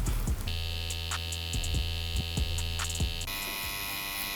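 A tattoo machine fitted with a 13 soft edge magnum needle, run at 8 volts with a 3.3 mm stroke, gives a steady close electric buzz with a strong hum, dipping briefly in pitch and shifting tone near the end.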